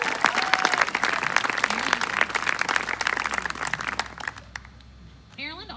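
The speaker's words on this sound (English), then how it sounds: "Let's give their staff a round of applause for committing their summertime to 2 or more camps." A crowd at a summer camp program breaks into loud applause with a few cheers, the clapping fading out toward the end as a voice begins to speak.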